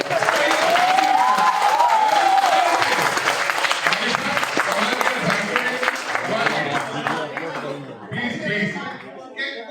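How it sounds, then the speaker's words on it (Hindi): Applause from an audience at a Hindi comedy or poetry show, clapping and crowd noise under ongoing speech, fading toward the end. "एक बार थोड़ी तालियों का गुलदस्ता जरूर दीजिए"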